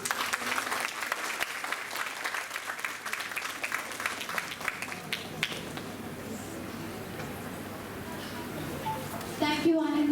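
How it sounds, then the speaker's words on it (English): Round of applause from the audience at a school Republic Day celebration after a flower presentation to the principal. Crisp clapping is strongest at the start and thins out, with some background chatter and a brief noise near the end. "Please give a round of applause."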